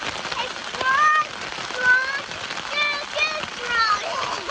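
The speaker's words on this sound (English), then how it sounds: "it's raining pretty hard right now" Heavy rain pounds on a tarp at a camp beside a minivan in a state park, a dense steady patter that rises and falls, with a voice and other voices speaking over it.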